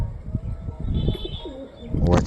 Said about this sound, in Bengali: ওই দেখো গাইস মনে মাথায় আমাদের একটা পায়রা বসে আছে